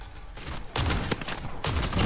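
Shotgun gunfire in a gun fight tournament video game: several loud, close blasts in quick succession, each a sharp broadband burst with a brief rumbling tail, spaced unevenly over a couple of seconds.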